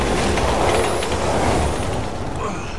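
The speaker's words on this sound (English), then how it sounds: "Train again." A subway train roars past in a tunnel in the video game Resident Evil 6, a loud, dense rumble with rattling wheels that holds steady and begins to fade as it passes.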